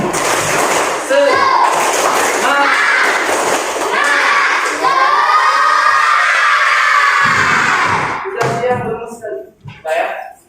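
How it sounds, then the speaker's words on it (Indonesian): A classroom group of teachers-in-training does a rhythmic spirit clap, loud thumping claps and chanting voices together, then the group cheers and shouts before it breaks off into scattered sharp claps and trailing voices. "Tepuk semangat."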